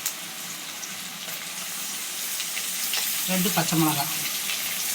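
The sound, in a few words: sautéing onions and tomatoes for chicken gravy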